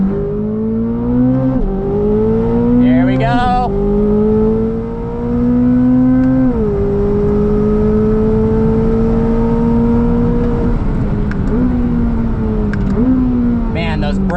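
A 2025 Chevrolet Corvette ZR1's engine revs hard and loud from inside the cabin, pulling through several rising gears with brief dips at each shift, while a voice speaks briefly over it.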